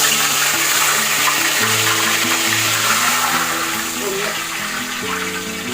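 Water pours steadily into a pot, measured out by the glass, as a continuous splashing rush with background music beneath it.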